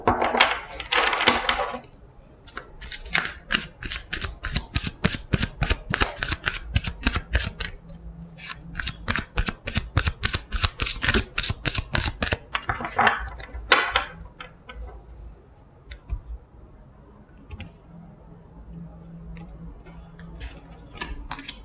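Tarot-style fortune cards being shuffled and drawn on a table, a dense run of crisp riffling clicks in bursts with short pauses, close and fairly loud, fading to quieter handling near the end; no talking.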